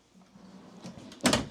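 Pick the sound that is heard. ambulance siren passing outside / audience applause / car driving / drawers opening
drawers opening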